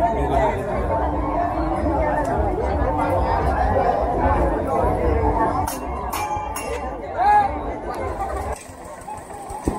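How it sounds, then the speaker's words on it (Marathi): A huge crowd at the Kunkeshwar Mahashivratri fair produces a dense, steady babble of many voices close around, with faint clinks and shuffling mixed in. "एकाच दिवसात जत्रा असल्यामुळे तुफान गर्दी आहे."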